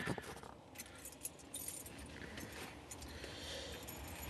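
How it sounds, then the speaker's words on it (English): Car keys jangle and clink together near a car that recently had an engine fire. The metallic rattles are faint and irregular over low background noise. "So, find the keys."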